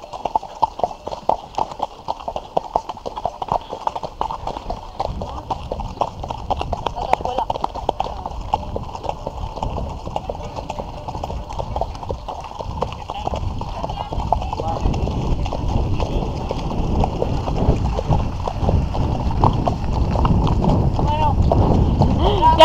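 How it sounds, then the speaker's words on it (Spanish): Horse hooves clip-clop steadily on hard ground during a trail ride, a continuous rhythmic clatter that grows louder toward the end, with people talking over it. "Mira ese caballo, por favor, que todo el mundo mire ese caballo."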